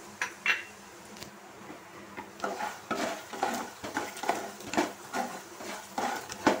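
Makhana (fox nuts) roasting in a pan over a slow flame, with irregular light scraping and rattling as they are stirred and tossed, close and moderately loud, no talk.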